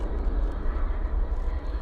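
A Boeing 737-800 rolls out after landing at night at DFW airport with spoilers up and thrust reversers deployed, a steady broadband jet roar with deep low rumble, sustained and fairly loud throughout.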